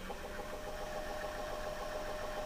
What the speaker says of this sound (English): You hear the little motor running in the background.